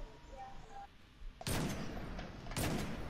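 Two loud, sharp gunshots in the shooter Destiny 2, spaced about a second apart, each with a booming echoing tail, following a quieter stretch of faint game ambience and soft electronic beeps.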